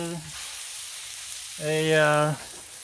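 Burger meat balls sizzle on a hot, smoking Blackstone griddle, a steady close frying crackle running throughout while a voice briefly speaks over it twice.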